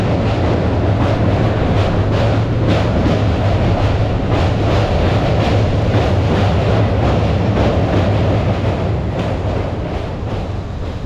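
An Indian train heading toward Siliguri Junction runs steadily along the track, a loud continuous rumble with rhythmic clatter and rattling, heard from inside the carriage with no voices.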